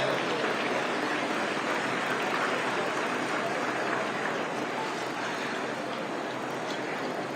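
Applause from a large crowd at an International Yoga Day gathering in Panchkula, a dense, continuous wash of clapping that stays loud and even for several seconds.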